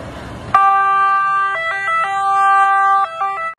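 A loud electronic toy fire truck siren wails in steady stepped tones, switching pitch several times, bright and close with no talking.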